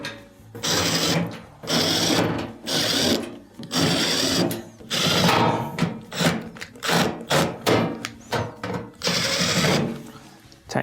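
A power tool drives in the center bolt of a washing machine during a rotor assembly repair, loud whirring bursts in repeated pulses with short pauses between them, close up.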